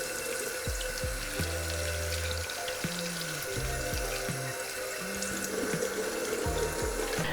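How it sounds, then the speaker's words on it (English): Bok choy is rinsed under a running kitchen tap, a steady close rush of water into a sink, with brief splashes and shifting gurgles as the leaves are moved under the stream; no one speaks. "you want to wash it well, and you want to wash in between as well"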